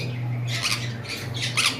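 An imported lovebird, a high-mutation pet bird, lets out a few harsh, close squawks in quick succession, alone with no voices.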